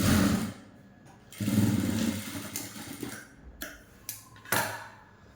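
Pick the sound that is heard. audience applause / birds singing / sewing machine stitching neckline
sewing machine stitching neckline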